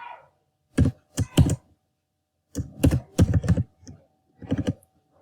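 Computer keyboard keys tapped while coding, in three short clustered bursts of quick clicks separated by brief silences, close and alone.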